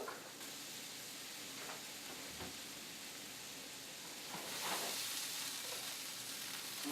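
Shrimp sautéing with black pepper in a pan give a steady soft sizzle and hiss that swells slightly toward the end, quiet and continuous with no talking.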